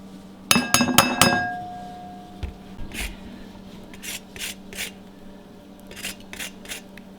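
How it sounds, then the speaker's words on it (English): A lemon is rubbed against a small microplane zester, giving a few soft raspy scrapes after a short burst of bright metallic clinks and rattles near the start. "then use a smaller zester like the microplane"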